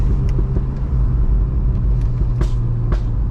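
A Stage 1 tuned VW Golf R Mk8 rumbles along under a steady engine drone, with a few sharp exhaust overrun pops and crackles spread through the second half.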